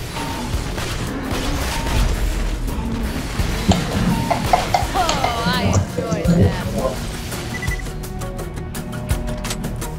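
Gunfire in the co-op shooter Borderlands 2 crackles in dense, overlapping bursts over steady game noise and booms, with players talking throughout.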